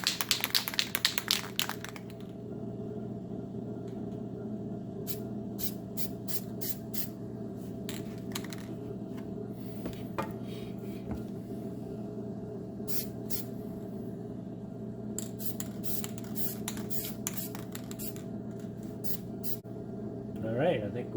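Black spray paint hisses from an aerosol can onto trim in short repeated bursts, close and fairly soft over a steady background hum.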